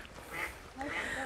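A duck quacks twice beside flowing water in a riverside recreation area, the short calls rising over a steady murmur of current and background noise.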